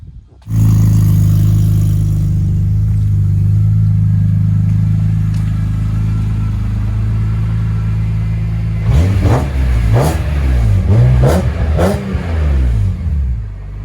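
A car engine rumbles loudly at a steady idle, then revs up several times in quick bursts near the end.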